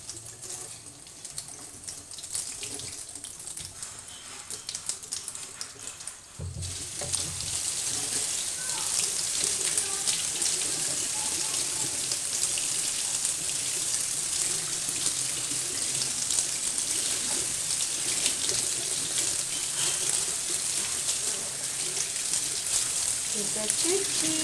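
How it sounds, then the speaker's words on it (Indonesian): Running tap water, neither too cold nor too hot, splashes steadily as orchid roots are washed beneath it, a continuous hiss that grows louder after a few seconds while a person speaks over it. "Coba kita cuci. Airnya jangan terlalu dingin, jangan terlalu panas ya."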